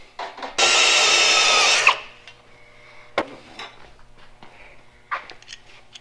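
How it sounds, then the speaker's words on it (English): A power drill bores out a worn pitman arm from a vehicle's steering linkage, one loud, steady grinding burst of just over a second, followed by scattered metallic clanks and knocks in a quiet shop. "We'll drill this out and get it tapered."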